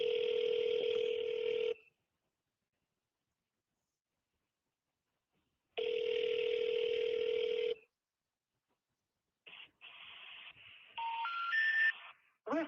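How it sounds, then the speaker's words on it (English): A phone on speakerphone rings twice, each ring a loud two-second electronic burble with a long silent gap between, followed by the rising three-tone intercept signal of a disconnected number. "I don't know if you guys can hear the phone ringing in my mic."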